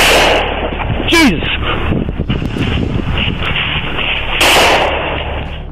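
Gunfire breaks out during a police shootout caught on dashcam, with sharp cracks scattered across a windy, roaring outdoor background. Someone shouts an exclamation amid the shots, and a siren-like sweep rises briefly.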